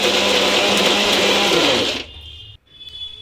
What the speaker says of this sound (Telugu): ఇది మిక్సీలో వేసుకొని కొంచెం గరుగ్గా